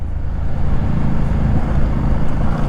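A steady, loud motorcycle engine drone with a low rumble and wind noise, continuous and close, heard while riding wearing a Shoei GT-Air 3 helmet.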